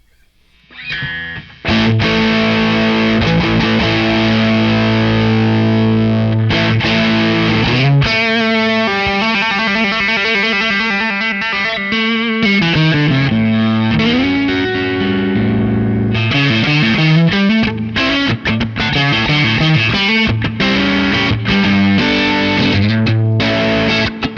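An electric guitar through a Benson germanium fuzz pedal plays loud sustained chords and note runs, thick and saturated, continuing without pause for the whole stretch.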